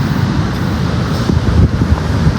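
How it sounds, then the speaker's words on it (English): Strong early-morning wind on a beach buffeting the microphone, a loud, steady low roar with gusty rumbling swells and no other sounds. "it is so windy"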